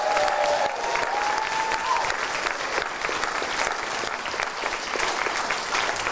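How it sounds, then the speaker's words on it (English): An awards-ceremony audience at the Learning Disabilities and Autism Leaders' Awards claps for award winner Mae in a sustained, even round of applause, with a brief thin tone near the start and no speech. "Please, can we have another big clap for Mae at"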